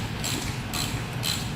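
A stuck bolt is wrenched out of a go-kart carburetor fuel bowl, giving three grinding, ratcheting bursts of metal-on-metal scraping, close and evenly spaced.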